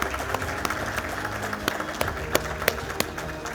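Delegates at the National Logistics Summit 2023 applaud with a moderate, steady run of clapping, in which individual sharp claps stand out over the general patter.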